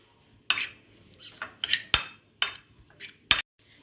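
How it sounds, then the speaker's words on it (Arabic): A spoon clinks and scrapes against a dish as ingredients are mixed with oil, several sharp separate knocks with quiet pauses between, close and fairly soft. "غادي نخلطوا هاد العناصر مزيان"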